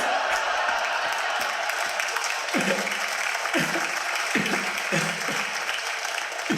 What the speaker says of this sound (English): You know why you're clapping, right?